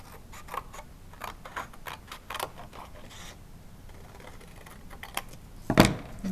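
Scissors snip through paper in a series of short, close, irregular cuts, quiet crisp strokes followed by a louder rustle of the paper near the end.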